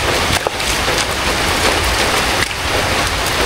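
Steady heavy rain falls on a farm where drainage ditches are being dug around young golden coconut dwarf palms, a dense continuous hiss with no talk.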